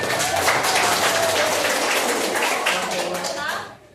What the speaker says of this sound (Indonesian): Iya, betul, beri tepuk tangan